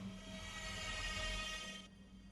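Steady rumble and metallic rail noise of a derailed subway train in a Minecraft NYC subway build, continuous and fairly loud for about two seconds before cutting off abruptly.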